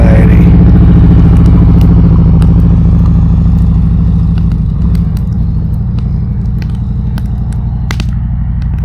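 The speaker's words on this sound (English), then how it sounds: "Another motorcycle arrived, as you can tell, a Harley." A Harley motorcycle engine rumbles loud and deep close by, its heavy low throb holding steady before easing slightly as it settles, with small clanks and clicks scattered on top.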